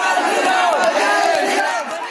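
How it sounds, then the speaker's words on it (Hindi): Crowd of school students in saffron scarves shouting slogans together as they stream out of a school during unrest, a loud, dense wall of overlapping voices with rhythmic chant-like bursts. "पहुंचे और नारे लगाते हुए बाहर निकले।"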